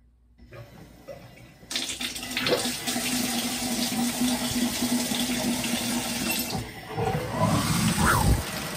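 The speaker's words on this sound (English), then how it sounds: "time to turn the shower on and see what happens" Shower water running steadily after being turned on, a broad continuous hiss and patter close by, with a few brief splashes and shifts near the end and no talking.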